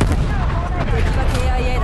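Enemy artillery barrage in Call of Duty: Black Ops Cold War, a loud, dense rumble of booms and blasts running through the whole stretch, with a voice talking over it.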